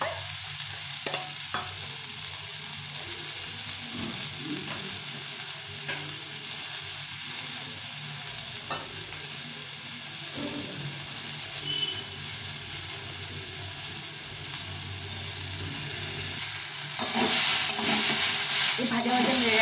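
Mustard-based dish frying in a pan with steady low sizzling and occasional stirring scrapes, the sizzle swelling louder near the end.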